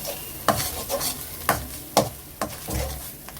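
Cabbage chutney sautéing in oil in a home kitchen, with steady utensil stirring strokes roughly twice a second over a soft, continuous sizzle, close and fairly quiet.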